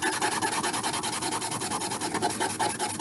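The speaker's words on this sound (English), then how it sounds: "I'm going to take that side that I need to even out, and I'm just going to put it down on the sandpaper" Steady back-and-forth rasp of a soldered wide-band ring's edge rubbed flat on sandpaper, close and continuous with an even rhythm and no talk.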